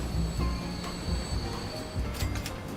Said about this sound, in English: Let's wait for the train to deliver its first load of cargo.